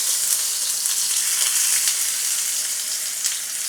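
A native country tomato frying in hot oil over a low gas flame, giving a steady, even sizzle with soft crackles that holds throughout at close range, no voices.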